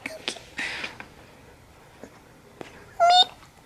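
A pet cat gives a few short, close meows with quiet gaps between them, then a brief louder tonal cry near the end.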